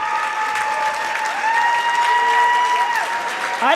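Crowd applause at a girls high school basketball game during a timeout, steady clapping filling the gym with a continuous squeal of sneakers or whistle-like tones above it, fairly loud throughout.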